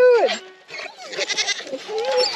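Goats bleat loudly and close by on a ranch, several wavering cries in quick succession with livestock shuffling around, as people move the animals.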